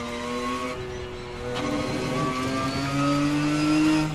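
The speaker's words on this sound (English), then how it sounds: "Lovely sound of the flat 6. Giving it a bit of a blip on the downshifts." A flat-six GT race car in a racing video game: the engine note climbs and falls with quick throttle blips on the downshifts, loud and close, with no talk.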